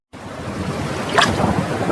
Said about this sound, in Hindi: तेज हवा चलने लगी और जोर से आसमान गरजने लगा